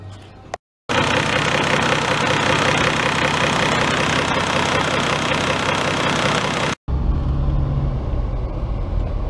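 A Mercedes OM606 naturally aspirated diesel engine fitted with a 7.5 mm injection pump runs loud and close, a dense steady roar that cuts out briefly twice and then continues at a rougher, lower note.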